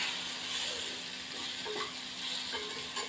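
Chilies coated in homemade panchkutiya masala are stirred in a pan, giving a steady soft sizzle with a few faint scraping strokes, moderately quiet and without talk.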